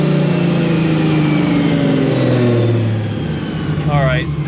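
A supercharged Nissan 350Z engine drops through downshifts, its tone falling in stepped pitch sweeps with a brief rev blip near the end, loud and close throughout.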